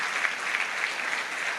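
A church congregation applauding for Jesus during a sermon, a steady crowd of clapping hands at moderate volume, even and continuous without voices over it.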